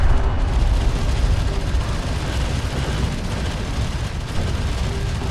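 Dense, continuous roar of gunfire and explosions in the strategy game Homeworld: Deserts of Kharak, booms overlapping heavily with no gaps, loud throughout.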